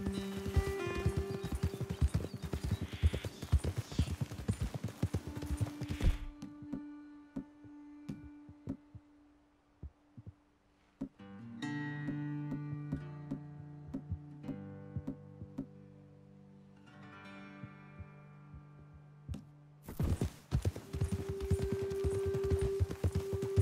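Horse hooves clop at a walking pace in Red Dead Redemption 2, soft and steady beneath music that drops away and returns, with no talk.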